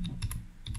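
A few quick keystrokes on a computer keyboard while a search query is typed, soft clicking taps over a low background hum in a very short stretch.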